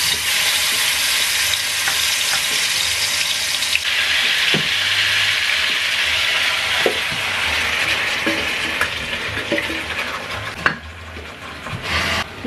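Meat sautés in a little oil in a pot, giving a strong, steady frying hiss up close, punctuated by occasional knocks and scrapes of a stirring utensil, with the sizzle easing slightly toward the end.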